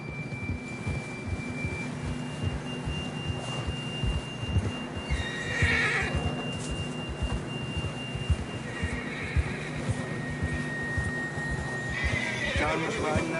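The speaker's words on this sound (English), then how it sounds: "John was riding that horse when we left Blackwater" In the Red Dead Redemption 2 game, a horse neighs twice and hooves thud steadily beneath a constant tone, while voices talk over it.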